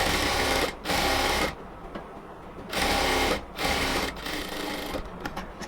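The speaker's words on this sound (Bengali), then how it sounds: "একটা সেলাই দেওয়ার পর আমরা হচ্ছে এবার আরেকটা সেলাই দিব।" A sewing machine stitches a seam around the armhole of a yellow cotton dress. Loud, close bursts of rapid needle chatter alternate with short pauses, and a quieter stretch of stitching comes near the end.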